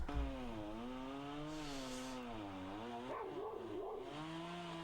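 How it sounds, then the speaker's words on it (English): A German Shepherd barks loudly in the foreground, its harmonic barks blending with the steady drone of a running chainsaw during tree felling. "Dog's loud, isn't it?"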